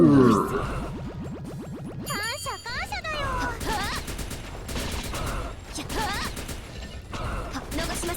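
Gunfire from the video game Gal Guardians comes as rapid repeated shots layered with chiming, tinkling game effects and pitched synth sounds, loud and continuous, with voices heard alongside.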